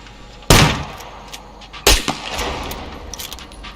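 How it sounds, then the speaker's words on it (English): Fireworks going off in the online survival game SCUM, two sharp loud bursts about a second and a half apart, each followed by crackling decay and softer scattered pops. "Fireworks."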